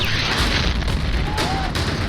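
Bombing explosions in Gaza war footage, a continuous low rumble with broad, sustained blasts and no clear separate impacts, filling the short stretch without any voices.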